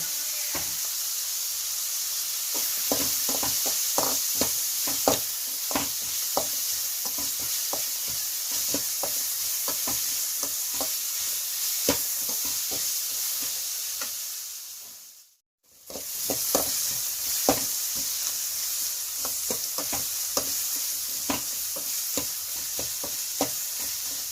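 Onions sizzling with a pinch of salt in a pan, a steady hiss with frequent spoon scrapes and clicks as they are stirred, close and continuous throughout.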